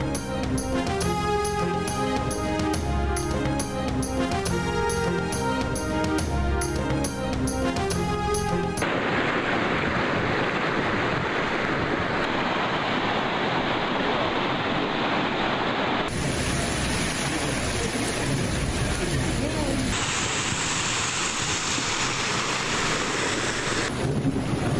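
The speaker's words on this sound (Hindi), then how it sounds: "पेशावर के मुख्तलिफ इलाकों में सुबह सवेरे मूसलाधार बारिश" A heavy early-morning downpour in Peshawar, a steady broadband hiss of rain that enters after roughly nine seconds of music and then carries on loud and unbroken to the end.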